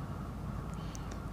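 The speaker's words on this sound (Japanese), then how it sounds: "カラスや。" A crow caws faintly from a distance, a few brief calls over steady low rumbling background noise in a backyard garden where chickens are kept.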